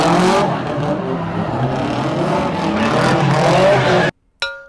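Loud roar of drift cars running in tandem, engines revving hard under continuous tire squeal, then an abrupt cut to silence and a brief tone at the end.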